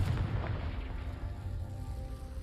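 The Confringo spell in Hogwarts Legacy on PS5 Pro goes off as a heavy, close explosive boom with a deep rumbling tail that lingers over the short clip, no talk.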